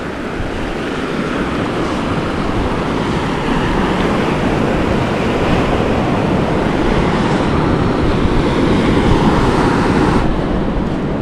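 Ocean waves wash steadily onto the sand at Diamond Beach in New South Wales, a loud, continuous roar of surf with no talking, mixed with some wind on the microphone.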